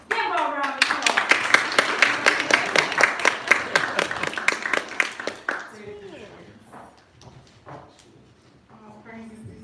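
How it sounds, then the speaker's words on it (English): Audience applause for a speaker being introduced at a religious gathering: a few seconds of rhythmic group clapping that fades out, followed by quieter speech. "Give her a round of applause."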